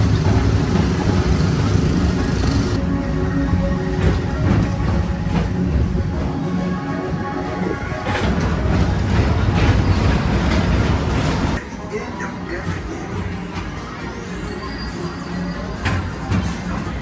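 Magic Kingdom amusement park train ride with steady rolling and clattering of wheels on track, loud and close, shifting in tone partway through.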